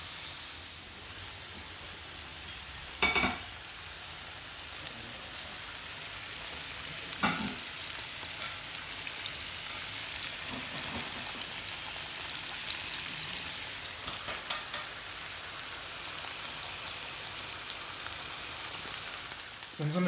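Burger patties fry in a pan with a steady, close sizzle and crackle lasting throughout, with a few brief clatters along the way.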